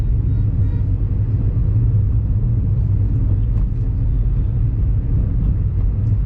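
A car drives along city roads in Ratnagiri, heard as a constant low cabin rumble and road noise at steady volume, with no talking.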